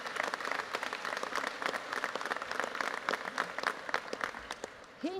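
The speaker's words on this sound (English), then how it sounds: "that's an applause line" A crowd at a political speech breaks into steady applause, heard at moderate distance with scattered individual claps standing out through the wash.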